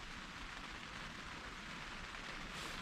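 Heavy rain pouring down steadily outdoors in a rainstorm at a cooking spot, a dense, even hiss of drops with no voices.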